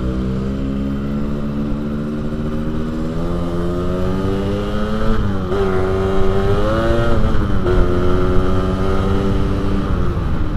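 A two-stroke Yamaha RX King motorcycle engine revs continuously while being ridden, its pitch rising and falling through the gears. The buzzy engine stays loud and close for the whole stretch.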